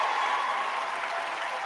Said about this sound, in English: Everybody get to do the round of applause.